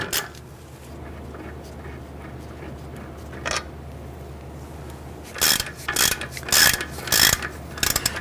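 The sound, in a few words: ratchet removing lower brake caliper bolt on Jeep Grand Cherokee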